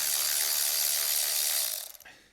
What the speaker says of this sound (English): it would be this Milwaukee cordless ratchet